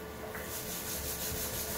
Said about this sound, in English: just use the sponge to just scrub in